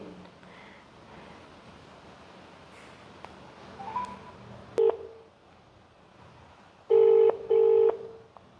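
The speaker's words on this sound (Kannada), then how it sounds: "ಇವಾಗ ಡೈರೆಕ್ಟ್ ಫೋನ್ ಮಾಡ್ತಾ ಇದ್ದೀನಿ ಇಲ್ಲಿ." A telephone being dialed to place a call: short electronic keypad tones, then two longer, louder tone bursts close by over a faint windy hiss, with no talking.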